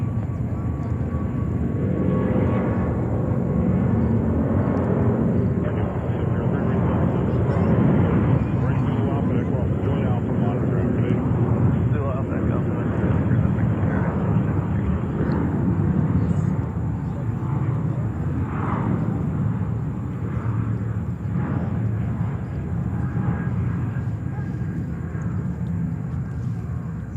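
Korean Air A380 airliner at JFK airport in New York, a loud, steady broadband jet roar with a low rumble that holds throughout, close and sustained, with talk in the background.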